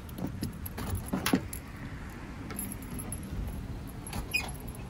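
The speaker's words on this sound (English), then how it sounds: "Pull up, and then the trunk will open." A 2012 Honda Civic LX trunk is released with a couple of close mechanical clicks and thuds, followed by a soft rustle as the lid lifts, over faint outdoor background.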